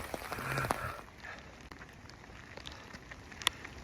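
Rain pattering steadily on an umbrella during a thunderstorm on the Appalachian Trail, a dense, soft hiss with scattered sharper drop taps and one louder snap near the end.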